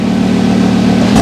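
A red Lamborghini's exhaust drones loud and close in a steady idle, briefly rising in pitch at the very end, with no talk.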